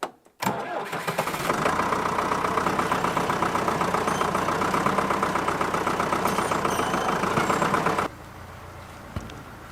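A tractor engine runs steadily under load while pulling a lift for an off-grid log cabin, starting with a sharp catch then holding a loud rhythmic chug before dropping to a quieter idle near the end.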